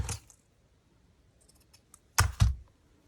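Scissors cut lace for a soft junk journal cover in a few quiet, crisp snips: one at the start, then a close pair of sharper snips near the end, separated by near silence.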